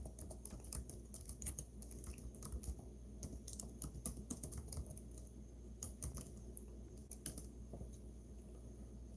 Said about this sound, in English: I'll type it in the comments